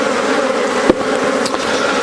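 A dense, constant buzzing of many honeybees inside a jam jar, close and loud, with a couple of brief knocks in the middle.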